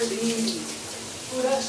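Running water pours steadily over hair during a wash, a soft continuous wash of sound with a voice speaking briefly over it.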